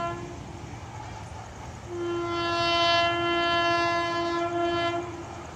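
An express train sounds a long, steady horn as it departs, the tone rising out of a low rolling rumble of rail wagons and lasting about three seconds before fading back into the train noise.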